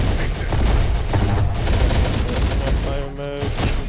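Dense, continuous squad gunfire rattles through a firefight in the video game Terminator Dark Fate Defiance, overlapping rifle bursts with a brief voice or tonal effect near the end.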